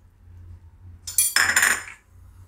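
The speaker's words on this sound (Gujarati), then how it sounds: "હવે આને આપણે આ રીતે હલાવી રાખવાનું" A spoon stirs chocolate syrup thickened with dissolved cornflour in a pan, giving a short burst of scraping and clinking that lasts about a second, close up with no talk.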